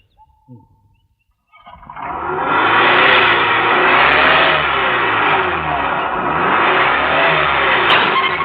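A car engine catches after being pushed, a brief stutter and quiet gap giving way to a loud, sustained revving roar that holds steady close by.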